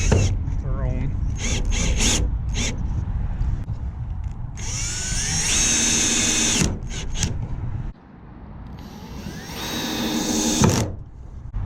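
Power drill driving screws to mount a hinge onto wood for a jon boat camera mount, with two rising whirring runs of the motor amid handling clatter and low background noise.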